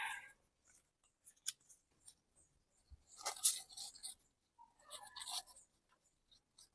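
Scissors cut into the neckline of a boat-neck princess-cut blouse fabric, a few crisp, close snips and crunches spaced out over several seconds, with quiet pauses between them.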